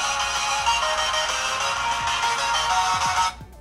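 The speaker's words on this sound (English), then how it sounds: "Now, if we just play music, it's gonna sound okay." Music plays through the small mono speaker of a VANKYO MatrixPad S21 budget tablet, steady, thin and fairly loud, then cuts off abruptly near the end.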